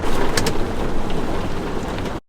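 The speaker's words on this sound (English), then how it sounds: "there is the craziest severe thunderstorm with 60-mile-an-hour wind gusts, and stuff is flying everywhere, hitting the van" Severe thunderstorm lashing a van with heavy rain and 60-mph wind gusts, a dense, loud, steady roar of rain and wind hitting the vehicle, with a few brief sharper impacts early on.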